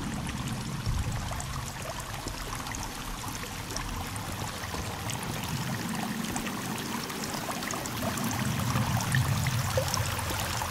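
Water flows steadily into a beach cave in the video game Sons of the Forest, a continuous trickling, pouring wash that stays even and fairly soft throughout with no voices.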